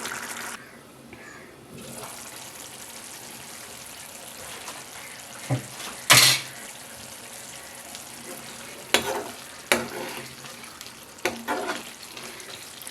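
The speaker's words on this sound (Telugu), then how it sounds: "ఇప్పుడు దీన్ని ఒక పది నిమిషాల పాటు ఉడికిద్దాం చక్కగా ఉడుకుతుందండి" Keema gravy curry simmering in a pan, a soft continuous sizzle and bubble close by, broken by a few sharp clatters and scrapes of stirring.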